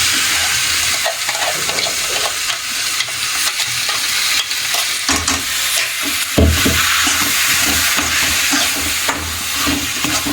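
A spoon scrapes and stirs through a sizzling jackfruit stir-fry in a pan just after masala goes in, with steady frying hiss and rhythmic scraping up close.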